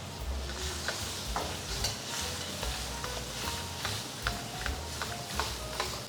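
Eggs frying in a hot pan while making Yang Chow fried rice, a steady crackling sizzle with scattered sharp pops and utensil clicks, close and fairly loud throughout.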